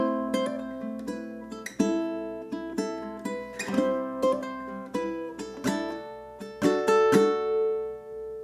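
Ukulele plays two bars of Queen's Bohemian Rhapsody: bright plucked notes and strummed chords in a steady rhythm, close and clear with ringing sustain and no voice.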